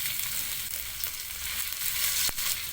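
Ginger fries in hot oil in a pan, a bright, close, steady sizzle with a few faint stirring clicks.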